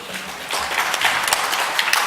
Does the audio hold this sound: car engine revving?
no